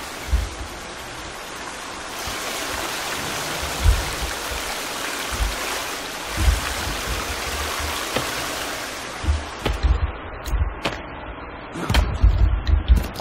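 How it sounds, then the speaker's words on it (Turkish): A waterfall in the survival video game The Forest roars as a steady broadband rush of falling water, with louder low thumps and splashes breaking through now and then near the end. "Şelale mi var burada ya?"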